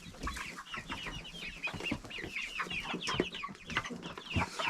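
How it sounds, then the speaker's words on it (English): Farm chickens in a small homestead hen house in Slovenia, clucking busily and continuously with overlapping bursts from several birds, fairly close but at modest volume. "we call them farm chickens in Slovenia"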